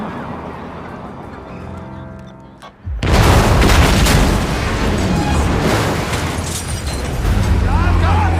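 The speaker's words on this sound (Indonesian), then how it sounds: "Mayer langsung meledakkan sebuah bom yang sudah dia pasang pada mobil anak buah si target." A bomb planted on a car bursts into a loud, sudden explosion in an action film, a deep broadband boom that erupts after a quieter stretch and keeps roaring with rumbling debris and fire noise to the end.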